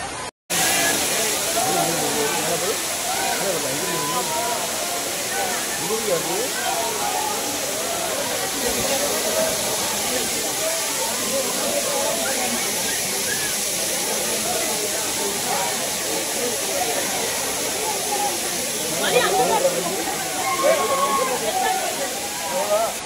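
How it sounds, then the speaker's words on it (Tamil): A dense, constant roar of heavy water crashing down at Kutralam Main Falls, loud and unbroken for the whole stretch, with faint voices buried in the noise. "மெயின் ஃபால்ஸ்ல தண்ணி எவ்வளவு அழகா கூட்டிட்டு இருக்கு பாருங்க"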